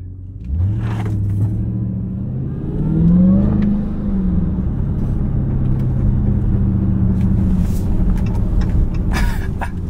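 A Hellcat's engine rumbles and revs close up while driving through downtown Philadelphia, with a low steady drone that swells into a louder rev partway through and holds a heavy idle-like growl.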